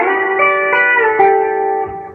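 An electric guitar fitted with a B-bender plays a twangy country lick in G, with bent notes sliding back down as the bender is released, sustained and close, ringing alone with no voice.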